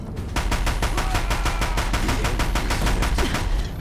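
Deathbringer machines in Horizon Zero Dawn firing on a bridge: loud, rapid machine-gun bursts in an even, relentless rhythm that runs without pause from start to finish.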